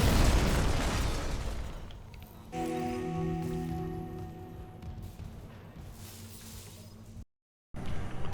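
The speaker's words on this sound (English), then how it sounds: "I thought the explosion was going to be huge" A hydrazine tank explodes in the video game Dead Space Remake, a loud broadband blast that decays into a rumbling, droning tail of steady mechanical tones, followed by a brief cut to silence.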